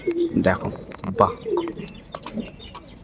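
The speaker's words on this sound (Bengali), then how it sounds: "পায়রা দুটো ছেড়ে দেখানো হলো" Pigeons bred for long endurance flights cooing in low, repeated throaty bursts close by after being released, while someone talks over them.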